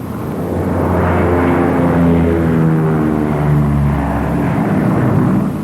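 Twin engines of a Lockheed P-38 aircraft droning steadily while circling to land, a loud continuous propeller hum that swells slightly and holds, with no talk.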